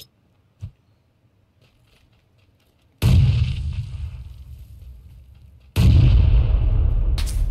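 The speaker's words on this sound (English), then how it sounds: "there's people shooting me from a different direction as well" PUBG gunfire: after near silence with one faint pop, two heavy, loud booming shots land about three seconds apart, each followed by a long ringing decay.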